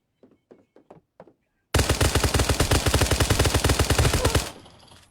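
Rapid automatic rifle fire rattles in a long, loud burst after a few short knocks, then cuts off into a fading echo.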